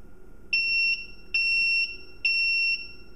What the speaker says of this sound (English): That's the beeping that tells you that you just turn something on.